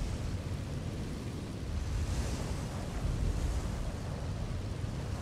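Ocean waves wash onto a beach in a steady, broad roar of surf with some wind rumble, continuous and fairly close, no voices over it.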